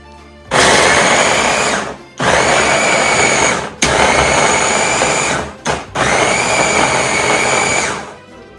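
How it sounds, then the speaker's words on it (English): Food processor chopping vegetables for ragu sauce, running in four loud, steady whirring bursts with short breaks between them, close up and with no voices. "Everything into the food processor. This will just help chop everything up a little more finely for our ragu sauce."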